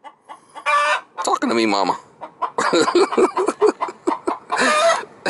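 A chicken clucks in short bursts between a person's speech, the bird close by and the voice talking over and around it.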